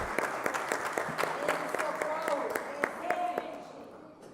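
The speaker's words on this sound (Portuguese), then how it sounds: "uma salva de palmas para Dona Maria do Socorro" Audience applause fills a women's seminar hall in Brazil, dense clapping with sharp individual claps standing out, sustained and fairly loud before fading at the end; a voice briefly rises over it.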